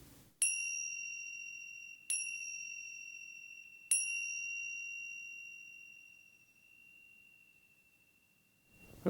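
Three meditation bell chimes strike about two seconds apart, each a clear bright ring that lingers and slowly decays into silence.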